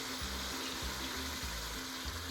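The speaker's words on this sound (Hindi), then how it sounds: "अब हम इसके अंदर पानी ऐड कर रहे हैं।" Water pours steadily into fried masala for chicken yakhni pulao, a continuous close splashing and sizzling rush with no talking.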